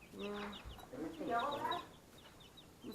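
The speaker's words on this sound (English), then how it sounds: "Oh, the little clucks." Backyard chickens cluck softly close by, a few short rising clucks and a brief burble, with quiet talking mixed in.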